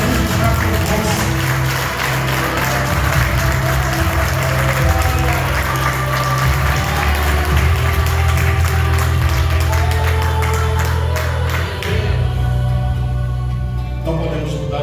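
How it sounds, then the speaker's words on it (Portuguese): Church congregation clapping for Jesus during a sermon, steady applause over sustained low musical tones and background voices, loud and continuous for most of the stretch before easing near the end. "Quem pode dar palmas para Jesus?"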